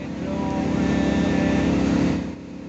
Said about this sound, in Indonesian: sehingga kami dioper menggunakan speedboat ini